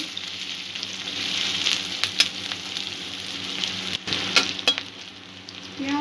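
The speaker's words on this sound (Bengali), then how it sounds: "সব কিছু একটু ভালো করে ভাজা করে নেব।" Onion, grated ginger and garlic frying together in oil in a kadai make a continuous crackling sizzle, interrupted by a few sharp spatters and brief stirring scrapes.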